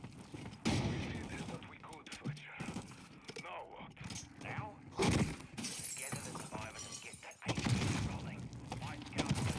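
Window glass shatters amid the chaos of Call of Duty MW3 Zombies, sharp breaking bursts mixing with gunfire and game noise while a voice talks through parts of it.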